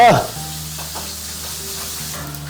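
Eggs drop into hot oil in a wok with a loud initial splash, then settle into a continuous close sizzle and crackle, with no voices.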